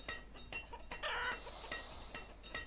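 Chickens clucking in the video game Banished, a cluster of repeated short clucks and squawks in quick irregular bursts, moderately close and alone without speech.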